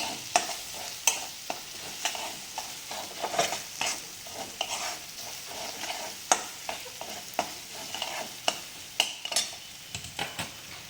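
Cumin seeds and turmeric fry in hot oil for a Kolhapur-style batata vada filling, a soft steady sizzle broken by regular scraping and tapping strokes of a spoon stirring in the pan.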